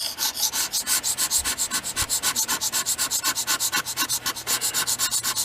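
A homemade scraper made from a utility blade and a plastic lighter scrapes plastic off a tabletop in quick, regular back-and-forth strokes, a loud, close, rhythmic rasping that continues steadily throughout.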